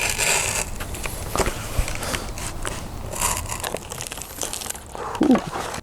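Crinkly plastic rustling and crackling as clear grip tape is handled and laid over the painted side of a skateboard deck, close and steady throughout with a few sharper crinkles.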